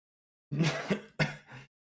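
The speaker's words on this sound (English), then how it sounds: "Started coughing last minute." A man on a gaming news show coughs or clears his throat close to the mic, with three quick harsh bursts and no other sound around them.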